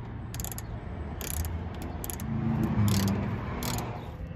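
A ratchet with a T25 socket removes screws on a Porsche 991 GT3, its quick clicking strokes coming in several short close bursts over a low background hum, no talk.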